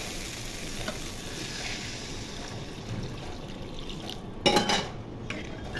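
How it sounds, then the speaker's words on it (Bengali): Water poured into spiced masala frying for puti fish bhuna sets off a steady, close sizzle and hiss, with a brief metallic clatter of a utensil against the pan near the end and no talking. "মশলা ভাজা ভাজা হয়ে গেছে, এখন পরিমাণ মতো পানি দিয়ে দিব।"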